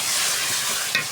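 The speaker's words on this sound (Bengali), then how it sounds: "এই যে ডিমের মশলা কষানো হইতেছে।" Egg curry spice paste being sautéed in a pan at a family picnic, with a dense, close, steady sizzle and one brief scrape of a stirring spoon near the end.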